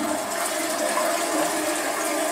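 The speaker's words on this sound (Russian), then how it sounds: "Могу воду включить, и ты сам убедишься." Water rushing steadily from a flushing toilet or running tap in a small bathroom, a loud continuous broadband hiss with no pauses, heard alone without any talking.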